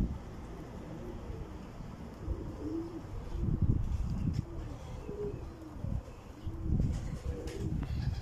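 Uzbek pigeons cooing close by in a city loft in Krasnodar, a steady stream of soft, low, repeated coos that overlap and swell in waves over a faint background hum.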